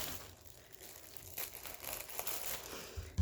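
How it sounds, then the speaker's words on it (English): Plastic crinkles and rustles as someone tries to tear open a bag of boxwood greenery, soft close crumpling that grows a bit busier toward the end, with no talking. "I think I can just rip this top of this bag here."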